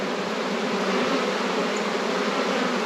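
A honey bee swarm buzzes steadily and continuously close by, a dense even drone of many wings with no pauses.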